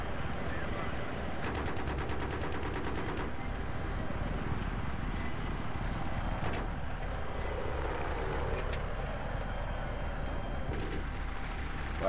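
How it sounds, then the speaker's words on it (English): In Battlefield 3, a helicopter's secondary gun fires a loud rapid burst, followed by a few shorter bursts over the constant roar of rotors and engine, while a voice talks faintly in the background. "Shoot the secondary gun."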